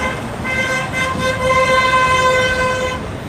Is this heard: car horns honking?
yes